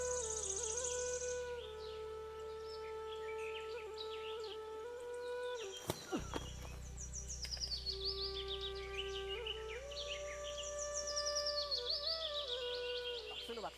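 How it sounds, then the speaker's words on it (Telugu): Birds calling and singing in a village forest in the morning, with sustained whistled tones and chirps continuing throughout and one sharp knock midway. "ఈ అడవుల్లో తిరుగుతుంటే పక్షుల శబ్దాలు వినడం"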